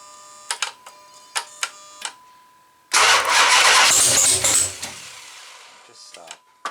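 A Magnum car engine with a suspected fuel pressure problem cranks and briefly catches, a loud rough roar lasting under two seconds before dying away, set between sharp clicks and light talk.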